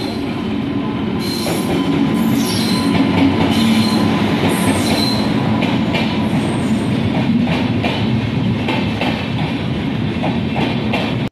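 A train at Jangipur railway station at night, rolling loud and close with a continuous rumble, clattering wheels and high squeals across the whole stretch, with no talk.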